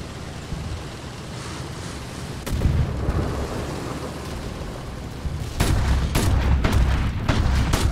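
Tank gunfire in the video game War Thunder: booming shots around the LVTDGB m/40 Swedish armored truck, a heavy blast near the midpoint and a cluster of sharp reports toward the end over a rumbling, windy background.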